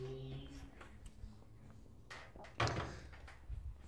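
Oven door on an oven with clasps folded on its hinges released and lifted off, giving faint clicks followed by one sharp metallic clunk midway and a softer knock near the end.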